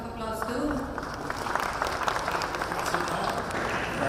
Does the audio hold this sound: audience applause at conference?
yes